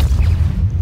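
A loud, booming low rumble from the Depulso force-push spell in Hogwarts Legacy, a dense, heavy blast that fills the whole short moment.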